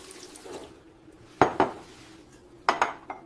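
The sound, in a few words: dishes and cutlery clinking while cleaning kitchen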